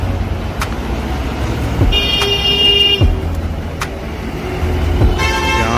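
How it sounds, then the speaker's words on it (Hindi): Vehicles travel the Keshkal Ghati mountain road with a steady, loud engine and traffic rumble, and a horn honks twice, once around the middle and again near the end. "अभी भी गाड़ी आ ही रही है।"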